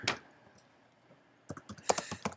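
Typing on a computer keyboard while assembling a PDF on a Mac: one quick burst of keystrokes at the start, a quiet pause, then a livelier run of clicking keys close up near the end.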